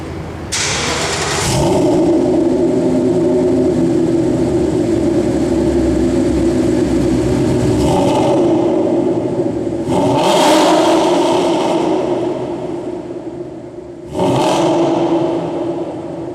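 A modified 5.0-litre V8 in a 2014 Ford Mustang GT rumbles at idle, then revs hard in several sharp bursts, roaring up and settling back, loud and close.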